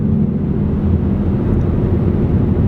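Steady low exhaust rumble from a 2018+ Ford Mustang fitted with a Solo Performance Street Race catback, cruising near 60 mph at about 2,000 RPM, a constant loud drone-free tone without speech.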